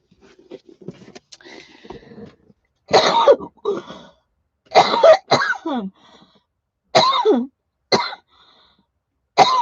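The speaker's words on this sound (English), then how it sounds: "Let me get a cough drop and see if I can stop that." Several harsh coughs in separate bursts, close and loud, with quiet pauses between them and some faint throat sounds at the start.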